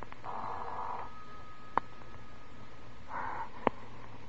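A telephone rings in an old suspense radio drama, two short electric ring bursts separated by a pause, faint and thin against a quiet background hiss, with sharp clicks in between.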